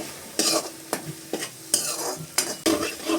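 Green chilli and garlic paste goes into a hot pan for a Gujarati eggplant oro and crackles in short, loud bursts of sizzle and stirring, with quieter frying hiss between them.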